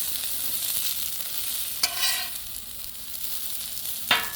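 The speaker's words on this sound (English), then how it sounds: "So I'm cooking these vegetables on a high." Vegetables and noodles stir-fry on a Blackstone griddle over high heat, a steady close sizzle with a couple of sharp scraping stirs cutting through.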